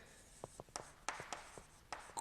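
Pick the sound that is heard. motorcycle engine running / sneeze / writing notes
writing notes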